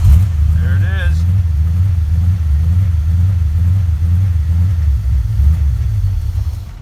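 A truck engine runs with a loud, low rumbling idle that holds steady for several seconds, a brief voice sounding near the start over the continuous throb.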